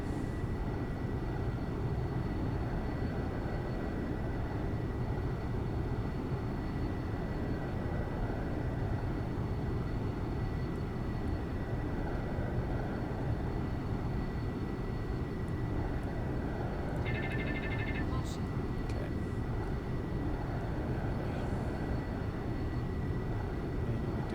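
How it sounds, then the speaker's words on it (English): An SR-71 jet in full afterburner inside the X-Plane 11 flight simulator gives a steady, unbroken low roar at constant loudness, with a brief faint beeping tone partway through. "Just in full afterburner right now."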